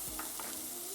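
Onions cut into thin semicircle strings sizzle steadily in a hot pan for a vegan French dip, a close, dense frying crackle with a few soft stirring scrapes and no talking.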